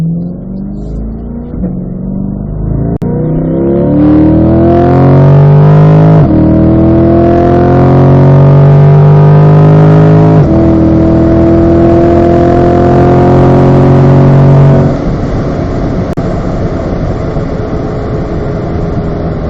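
Chevrolet Corvette C8 pulling away from a turnaround, the engine revving hard through rising gear sweeps with pauses at upshifts, loud and close, then settling into a steady cruise, with no talking.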